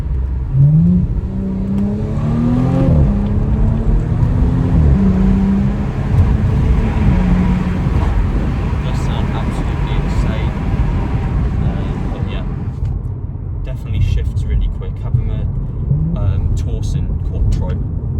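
A turbocharged 2017 Audi S4 (B9) 3.0 TFSI engine hums and revs up and down while the car drives, with wind buffeting the microphone and a voice speaking over it.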